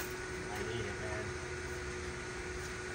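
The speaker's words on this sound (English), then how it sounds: "So I apologize for the fan noise always in the videos" A fan running in a humid garage gives a steady broadband whoosh with a faint constant hum, unchanging and continuous throughout, with no distinct events on top.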